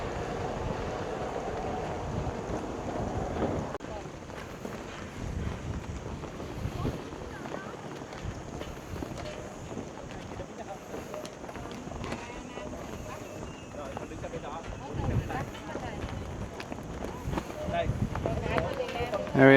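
Wind blowing on a boat crossing the DMZ in Vietnam, a steady broadband rush buffeting the microphone throughout, with faint speech-like sounds beneath and gusts building near the end.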